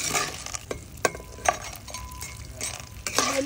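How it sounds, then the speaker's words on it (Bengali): Corn being stirred in Coca-Cola in a pan, with close scraping and stirring strokes and light clinks of a utensil, some sharper scrapes standing out against a faint steady sizzle. "ঘন ঘন করে নাড়তে হবে"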